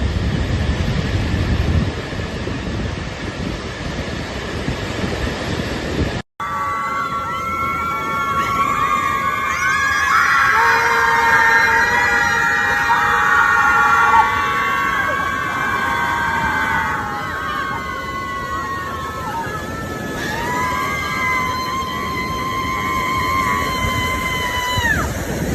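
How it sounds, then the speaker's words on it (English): Crowd of people screaming together at an outdoor protest-style screaming session in a Wisconsin town after Trump's election win; overlapping, sustained wails and shrieks rise and fall for about twenty seconds over steady wind rumble, following a brief windy stretch and cut. "platoon of liberals in a Wisconsin town that held a screaming session to deal with Trump's winning"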